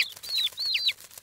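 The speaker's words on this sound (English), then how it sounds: "Those baby birds look hungry." Small cartoon baby birds in a nest chirp hungrily, a few high, clear, rising-falling calls in quick succession, fairly close and alone.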